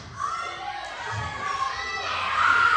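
Evening audience yelling out numbers in unison, a crowd of overlapping voices shouting together and swelling louder toward the end, fairly close and busy.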